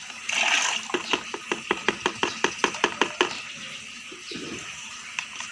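Molasses and water are stirred together in a container for fish pond fermentation, giving a close run of regular rhythmic sloshing strokes, about a dozen in a row, over a brief splash of pouring water, with no voices.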